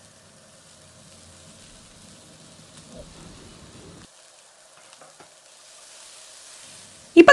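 Mixed vegetables, baby corn and onions stir-fried on high flame for fried rice, giving a faint, steady sizzle with occasional scraping and stirring clatter and a brief louder clank at the very end.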